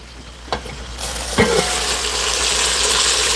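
Fried breakfast potatoes sizzle steadily in a hot pan, with a couple of scraping clanks as they are stirred, the hiss rising and staying loud throughout.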